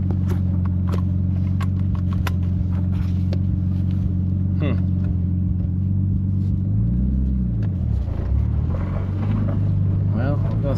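Nissan 240SX with an RB25 engine running rough on a test drive, its steady loud rumble from inside the car broken by irregular stumbles and rev changes, with talk over it throughout.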